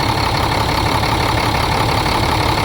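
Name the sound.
old diesel engine idling after sitting for years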